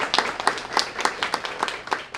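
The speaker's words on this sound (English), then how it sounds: "One more round of applause for Dara," Applause at a student-of-the-month ceremony at a military institute, with individual sharp claps standing out in an uneven rhythm over a softer crowd clapping, fairly close and lively.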